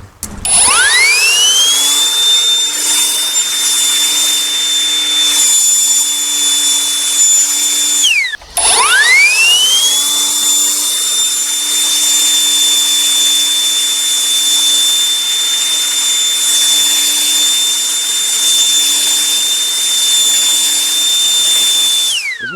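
An OGERY cordless handheld leaf blower runs at full power clearing fallen branches from a street, a loud, high whining motor roar that spins up, holds steady, briefly cuts out and restarts, then drones on continuously.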